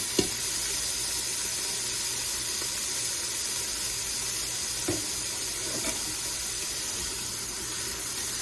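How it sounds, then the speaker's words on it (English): Ingredients for pork ragu sautéing in an Instant Pot give a steady, close sizzling hiss with a few faint clicks and clatters, no talking. "we're gonna let those saute for just a little bit"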